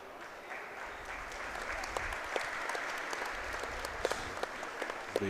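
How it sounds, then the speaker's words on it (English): Spectators in the stands of a college women's basketball gym applaud an injured player, a soft, even patter of clapping from a modest crowd with a few sharper claps near the end. "The audience here in the stands gives her a round of applause"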